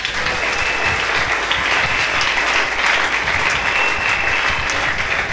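Sustained applause from a church congregation during a worship service acclaiming Jesus, dense steady clapping filling the room without a break and no talk over it.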